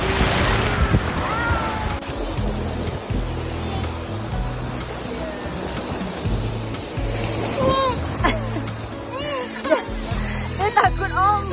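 Waves wash continuously onto a beach in the background while children and adults talk and play nearby, the surf a steady rushing layer under frequent voices.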